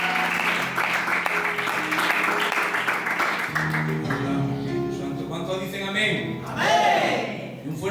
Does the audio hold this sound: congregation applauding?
yes